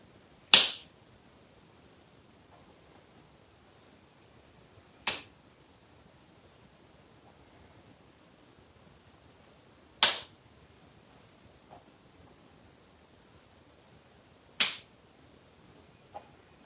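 Four single sharp claps from a yoga practitioner clapping hands behind an extended leg, spaced about five seconds apart, crisp and close in an otherwise quiet room.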